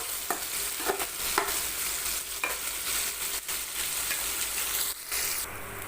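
Onions sautéing in a pan for egg gravy, a steady close sizzle and hiss with a few scraping stirs of the spoon through the slices, no voices.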